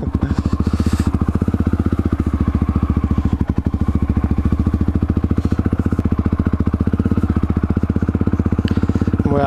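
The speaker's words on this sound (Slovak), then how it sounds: "Moja terénna motorka." A supermoto dirt bike runs in a steady, rapid, chugging engine rhythm, close and loud, with light clatter over it and no talk.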